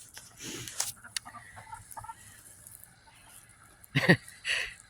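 Chickens cluck outside their run on a freezing day, with a few soft, scattered calls early on, then two louder bursts near the end over a quiet outdoor background.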